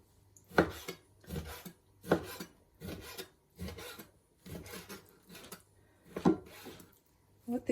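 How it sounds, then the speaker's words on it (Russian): A knife slices raw pork into pieces on a board, giving repeated rasping, scraping strokes about every half second at close range, with faint background voices between cuts. "Нарезаем."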